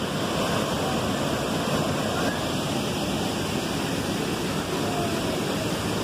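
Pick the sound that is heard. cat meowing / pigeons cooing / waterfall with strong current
waterfall with strong current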